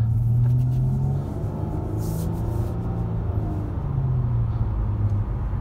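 A 2020 Nissan Maxima SV with a 3.5-liter engine and CVT accelerates, a steady low engine rumble and road noise heard from inside the cabin.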